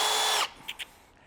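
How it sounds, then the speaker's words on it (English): A power drill with a wheel chucked in it whirs loudly for under half a second, then stops, followed by two faint clicks. "chuck it in a drill"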